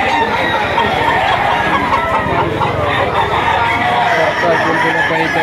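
Many roosters crow steadily at a crowded outdoor chicken market in Lipa City, Batangas, a loud dense chorus that goes on throughout, with murmuring voices in the background.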